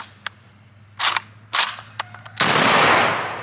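A JTS AK-style 12 gauge shotgun firing at an outdoor range, several loud, close blasts spaced unevenly, the last followed by a long ringing roar, with sharp mechanical clicks in between.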